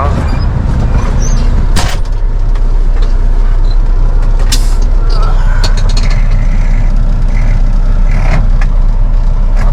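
A heavy haul truck pulls away with a loud, rumbling diesel engine close by, punctuated by sharp clanks and hissing bursts.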